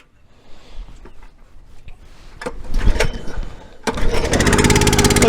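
Small log splitter engine recoil-started after a rope repair: a few pull-rope rasps and clunks, then the engine catches and settles into a loud, steady close-up running drone.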